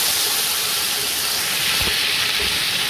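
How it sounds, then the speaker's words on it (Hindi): Beef chunks fry in a pot with onions browned to dark brown for yakhni pulao, giving a loud, steady, close sizzling hiss throughout with no talking. "ये जी गोश्त शामिल करके तो इसको फ्राई करना है जी थोड़ी देर के लिए"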